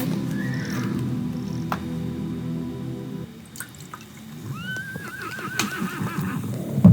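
In the Star Stable Online video game, a horse whinnies and neighs several times over background game sounds, with water-like drips and a few hoof clip-clops, close and clear without speech.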